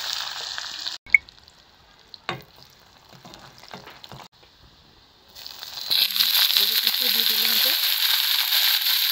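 Leheti greens hit a hot wok. A few quiet clinks and rustles come first, then a loud, broad frying hiss swells up and holds steady to the end.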